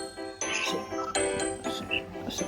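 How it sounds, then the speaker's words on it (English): A bright chiming jingle rings out in several quick tinkling notes over a soft musical backdrop, clear and close, like a bell notification sound. "click the notification bell"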